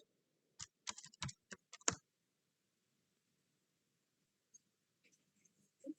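Several quick, distinct keystrokes on a computer keyboard in a quiet room, clustered in the first two seconds and followed by a few faint scattered taps.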